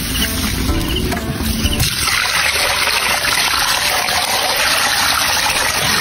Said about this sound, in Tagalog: So maglalagay na lang tayo ng tubig.